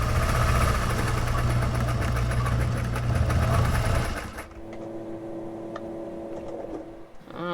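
A sewing machine stitches a fabric bag meant to protect boat winches: a loud, fast, steady mechanical whir for about four seconds, then it stops, leaving a quieter hum and a few faint clicks.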